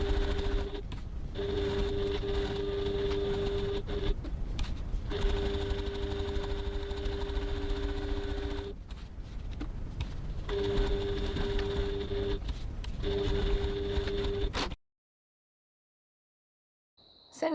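A sewing machine runs steadily for long stretches, stitching around a crossbody bag's pocket window, its close mechanical hum and rapid needle ticking broken by brief pauses, then stopping into silence.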